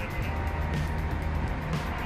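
A low, steady rumble of a bus engine and road noise heard from inside the moving bus, continuous and fairly loud.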